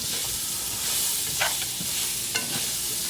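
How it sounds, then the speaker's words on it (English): Big chunks of chopped onion fry in a pan for arroz con pollo, a dense, close, steady sizzle with a couple of brief stirring scrapes, and no one speaking. "I'm going to throw these onions in here."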